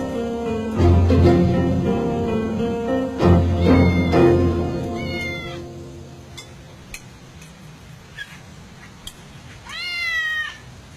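A house cat rubbing against someone's legs meows several times, loud at first and then fainter, with small clinks and ticks in the room around it.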